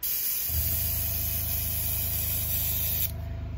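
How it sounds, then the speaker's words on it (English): Air compressor running steadily nearby, a constant loud droning hum with a low rhythmic pulse throughout and a slight drop in level near the end. "my air compressor is making a lot of racket"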